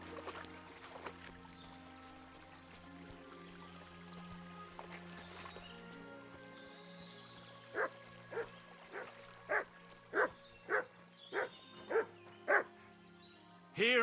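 Dog barking in the medieval game Kingdom Come: Deliverance 2, a run of about eight evenly spaced barks at mid distance over quiet outdoor ambience, preceded by faint distant yips.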